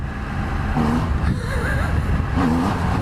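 A 2020 Triumph Rocket 3 GT motorcycle accelerates hard on the throttle, its loud engine note rising and falling in two surges, close up over steady wind noise.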